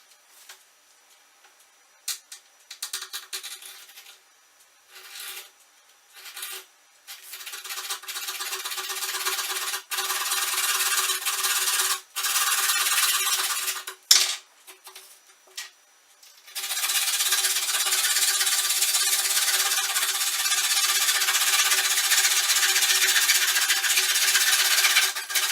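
A Silent Gliss metal curtain track for a campervan cut to length, heard as bursts of harsh rasping and grinding broken by short pauses, then a long steady cutting stretch near the end, close and loud without speech.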